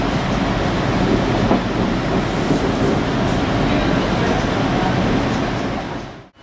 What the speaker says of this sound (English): Here's us going back on the monorail. Light rapid transit.